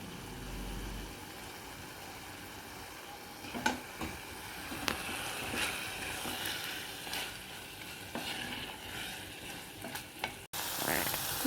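Chicken curry simmers and sizzles steadily in a pot on a stove, with a continuous bubbling hiss and occasional soft clicks of stirring, heard close and alone.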